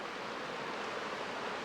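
A steady, full rushing wash of water pours over an edge at a Japanese festival site in Shimoda, constant and broadband with no breaks and no voices.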